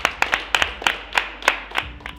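An audience at a reunion show claps for Jermaine, a lively round of applause with sharp, close individual claps in an uneven rhythm that tapers off near the end.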